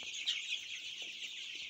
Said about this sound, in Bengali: 1 থেকে 20 দিন এই মুরগিটা এখানে থাকবে।